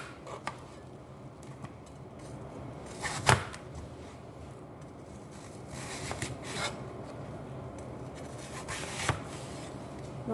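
A knife slices a peeled apple into eight pieces on a board, with a few sharp, isolated cuts spread across a quiet kitchen background and faint rubbing between them.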